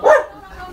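A puppy at a house party lets out a single short, fairly loud bark that fades quickly, with a faint murmur of the room behind it.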